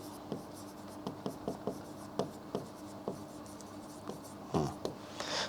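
Pen or pencil writing by hand on paper, quiet close scratchy strokes in short irregular bursts, with no talking.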